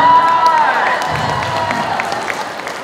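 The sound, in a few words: audience applause and cheering after magic trick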